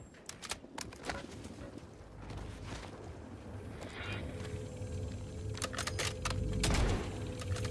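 A magazine swap in the Warzone video game gives a quick run of sharp mechanical clicks and metallic clacks. It plays over a dense background of in-game rumble and distant firing.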